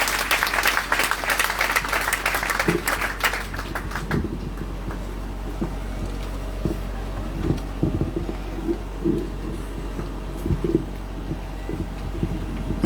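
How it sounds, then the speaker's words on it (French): Applause rises from a congregation at a Sunday worship service, a dense burst of clapping for about four seconds that then thins into scattered, fainter claps over low background noise. "Applaudissez cet esprit dans la vie serviteur."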